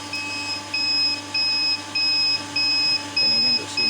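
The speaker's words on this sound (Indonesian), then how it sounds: "dan alarm berbunyi ya" A steady train of electronic alarm beeps from an overloaded 5 kW off-grid hybrid pure sine wave inverter with a toroidal transformer, about six evenly spaced pulses, sounding over a low constant hum with no one speaking.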